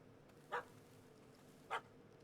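Two short, separate barks from a puppy in The Witcher 3, spaced about a second apart over a quiet ambient game background.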